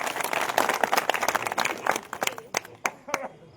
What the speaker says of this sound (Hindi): एक बार उनके लिए जोरदार तरीके से तालियां